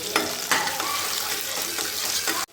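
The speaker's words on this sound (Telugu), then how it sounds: "ఆనియన్స్ కొంచెం గోల్డ్ కలర్ వచ్చేలాగా బాగా ఫ్రై చేసుకోండి" Sliced onions frying in a pan give a steady, close sizzle, broken by several scraping stirs of a spoon against the metal, before the sound cuts off abruptly.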